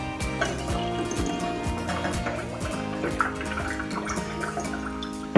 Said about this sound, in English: We can take off that lid again and add the rest of the water.